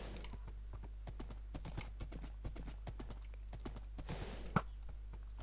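Horse hooves clip-clopping in Minecraft, a steady run of sharp, close hoof clicks with irregular spacing, ending on one louder strike, over a faint low background hum.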